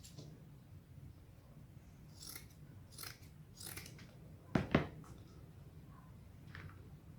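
Scissors snip through canvas rug material in a quiet room, several soft separated crunching cuts with one sharper, louder snip midway.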